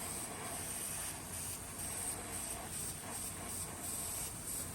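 Spray paint hissing from a can over a 3D stencil on a crackle craw fishing lure, a steady airy hiss in a few short, even passes with slight pulses between strokes.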